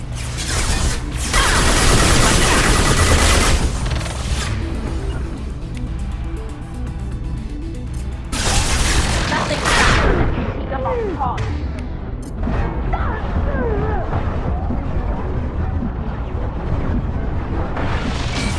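Gunfire and heavy impacts in the Mass Effect 2 video game ring out as dense, loud bursts that crash and rumble almost continuously, with brief lulls between volleys of battle noise.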